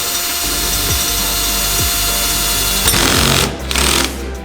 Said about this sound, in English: Now I got my little Milwaukee hole saw.